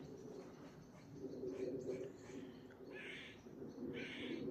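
A jay calls from somewhere overhead in a patch of countryside at East Tilbury, giving a few short harsh calls at moderate distance over a low background hum.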